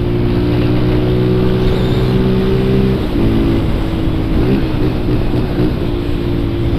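A motorcycle with an aftermarket exhaust runs loud and close, holding a steady harmonic drone before the tone breaks up partway through, with rough revving bursts and pops following.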